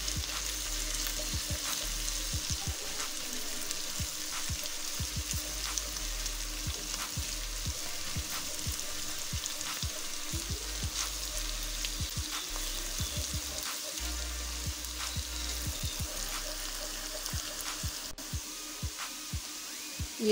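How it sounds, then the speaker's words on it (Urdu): Garlic and ginger paste fries in a pan with a constant close sizzle while a utensil stirs and scrapes repeatedly throughout, with no voices. "اتنی دیر اس کو فرائی کریں گے کہ اس کی سمیل لہسن کی ختم ہو جائے۔"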